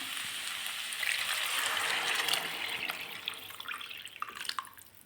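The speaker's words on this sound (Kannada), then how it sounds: "ಇವಾಗ ನೀರು ಹಾಕ್ಕೊಳ್ಳೋಣ" Water poured into a pan of softened tomatoes for palak hesarubele uppittu, a gushing splash that swells and then breaks into uneven trickles and drips, with no talking.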